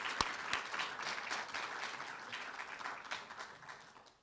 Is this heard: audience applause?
yes